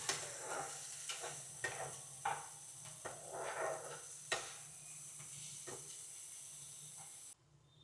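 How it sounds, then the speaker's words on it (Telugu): Half a cup of onion frying in about two spoons of oil in a pan, a faint steady sizzle broken by stirring scrapes and clicks, with no voices. "హాఫ్ కప్ ఆనియన్ వేసి పచ్చి వాసన పోయేంత వరకు ఫ్రై చేసుకోండి."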